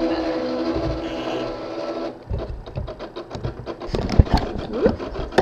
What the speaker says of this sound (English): tell my cutting machine to cut again